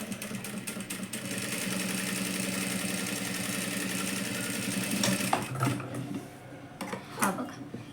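Electric sewing machine running steadily while stitching the neckline of a sari blouse, a continuous mechanical hum that stops partway, followed by a few light handling clicks and rustles.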